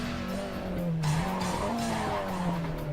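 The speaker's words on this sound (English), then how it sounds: "Because it's a very high revving motor." A race car engine screaming at high revs with shifting pitch, loud and steady throughout, with no voices, in a video game touge battle on the Irohazaka mountain road.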